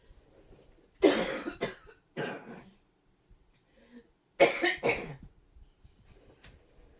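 Two close bursts of harsh coughing and throat clearing, each a few rough hacks, separated by quiet breathing.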